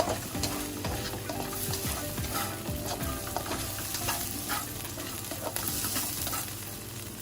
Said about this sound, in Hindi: ये जो हमारे स्प्रिंग ऑनियन है ये इनको हल्का सा हम फ्राई करेंगे